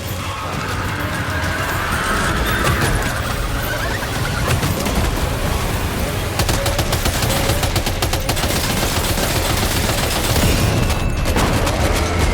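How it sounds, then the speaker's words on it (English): Rapid bursts of gunfire in Death Stranding 2, loud and close, with dense crackling volleys running throughout over a busy background of game sound. "Opening fire now."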